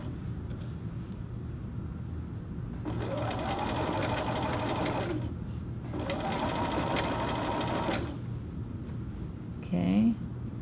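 A sewing machine stitches the hem of a little girl's dress skirt in two steady runs of several seconds each, close and even, with pauses and a brief higher whir near the end.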